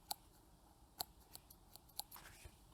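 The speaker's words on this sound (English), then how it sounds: "snip it off at about 1/8 of an inch" Scissors snipping thread at a patch sewing machine while shoes are stitched: a few sharp, crisp snips spaced about a second apart plus softer clicks, close and quiet against a low background hum.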